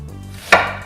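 An onion being cut into cubes with a knife, a single sharp chop landing on a board after a quiet moment with a low hum behind it.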